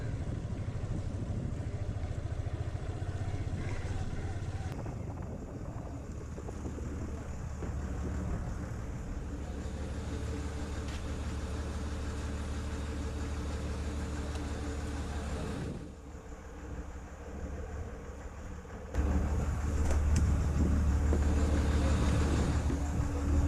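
A steady motorcycle engine drones continuously while riding through mud near a beach at Manori, Mumbai, with a rougher, louder surge near the end; no talking.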